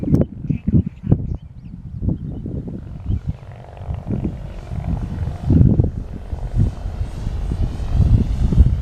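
An E-Flite Timber RC airplane takes off on a windy day, its small electric motor whining faintly under heavy, gusty wind buffeting close to the microphone.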